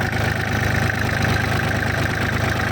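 Used Kubota tractor engine running, a steady loud mid-pitched diesel chug with a regular knocking pulse, close and continuous with no talk.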